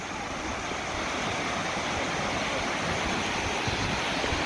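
Waves wash steadily onto a small sunny beach at Nagtabon, a constant rushing surf with wind noise against the microphone and no one speaking.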